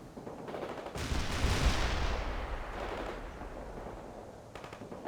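Tank main gun firing in the strategy game World in Conflict, a sharp heavy blast at about one second followed by a long rumbling decay, with scattered crackling gunfire before and after.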